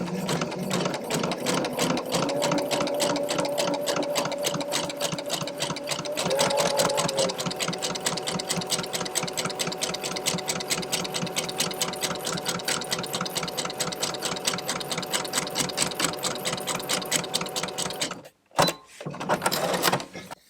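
A sewing machine fitted with a pintuck presser foot stitches decorative pintucks in a steady, fast mechanical chatter, close and continuous, pausing briefly near the end before starting again.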